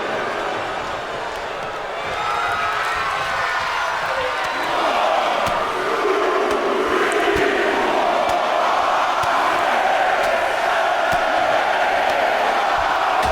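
A wrestling crowd cheers and roars steadily throughout, a loud continuous wash of voices that swells midway, with occasional slams from the ring and a commentator talking over it.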